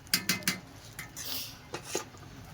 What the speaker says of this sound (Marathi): आता आपण भात टाकूया।